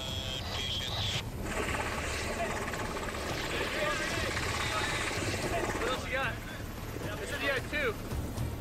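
A combat rescue helicopter's steady rotor drone fills the recording, loud and continuous, with voices talking over it throughout.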